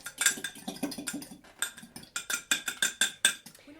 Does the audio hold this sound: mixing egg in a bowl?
yes